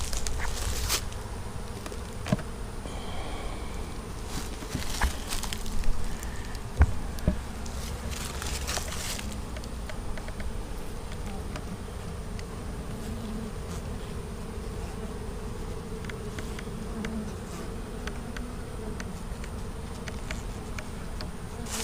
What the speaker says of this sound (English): That was a good swarm.